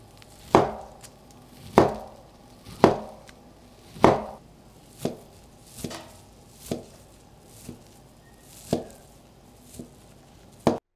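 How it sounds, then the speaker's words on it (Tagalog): Knife chopping pork siomai into small pieces on a board, with about ten distinct, evenly spaced thuds, close and clear in a quiet kitchen with no talking. "Gagamit tayo ng 30 pieces na siomai. Tapos hiwain natin to ng maliliit."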